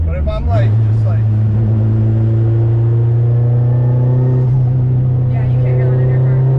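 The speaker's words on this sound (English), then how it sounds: "all you hear is exhaust noises" A K-swapped Subaru STI drones with a steady, loud low exhaust tone while driving, a faint turbo whistle riding above it, and people talking over the engine throughout.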